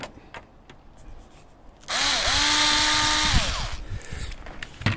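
Power screwdriver backing out the last screw from a Bestway Lay-Z-Spa filter pump cover, a close, loud whirring motor burst of about two seconds with rising and falling pitch, amid light handling clicks.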